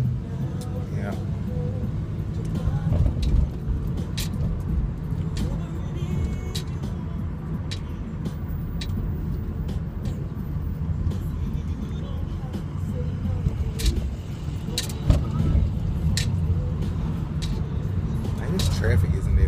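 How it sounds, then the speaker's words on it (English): Road traffic passing by in a steady broadband rumble of cars and engines, with a person talking over the vehicle noise. "Traffic isn't that bad today."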